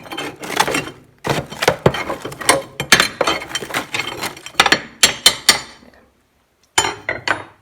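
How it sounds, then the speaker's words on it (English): Metal poker scraping and clinking inside a range stove firebox as built-up ash is knocked into the ash pan, a quick irregular series of sharp metallic knocks and rattles, close and loud with a brief pause near the end. "take my trusty poker and just give this a bit of a clean out to get some of this built up"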